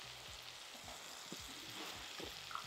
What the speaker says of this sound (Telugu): ఇలాగా వేయించేసుకొని